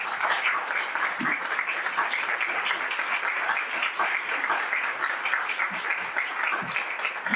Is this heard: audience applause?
yes